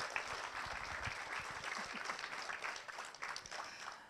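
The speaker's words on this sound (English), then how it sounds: "if you guys would like to give your applause now" Audience applause at a 2018 school board candidate forum, a steady wash of clapping from a room of people, fairly faint and distant, lasting the full few seconds.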